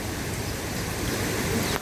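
Heavy rushing water from a river in flood and overflowing its banks, a steady broadband roar that holds close and loud for the whole stretch with no talking.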